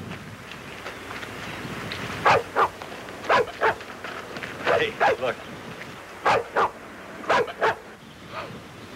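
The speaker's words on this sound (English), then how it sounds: "Dog bark." A dog barks from inside a parked van, several sharp barks in short pairs and clusters spread across the scene, moderately distant and muffled, with someone speaking briefly over light outdoor wind.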